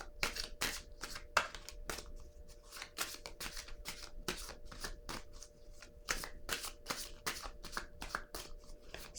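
Tarot cards are handled, shuffled and drawn, producing a quick run of crisp riffling flicks and slides, close and fairly quiet, with no talk.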